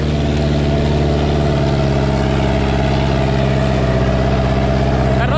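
A Sonalika DI-750 III tractor engine runs loud and close while pulling a harrow, a steady, heavy diesel throb with no pauses and no voices.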